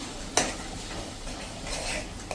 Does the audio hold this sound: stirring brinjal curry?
yes